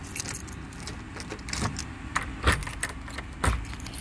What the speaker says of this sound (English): I've got the keys, and we're going to open this up